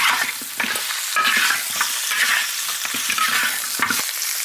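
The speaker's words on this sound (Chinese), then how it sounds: "再次把它煸炒均匀，炒香入味儿" Meat with large bones, whole spices and sauces stir-fried in a wok, loud and close, with a constant sizzle and repeated scraping strokes of the spatula; no voices.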